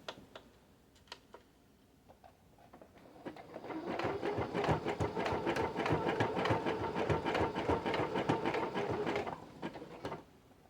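A sewing machine zigzag-stitches over a raw fabric edge, starting after a few faint clicks and running steadily for about five seconds with a rapid rhythmic needle clatter at close range, then stopping.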